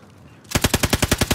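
Rapid machine gun fire in the video game Call of Duty Warzone, a steady burst of about ten close, loud shots starting after a brief quiet moment.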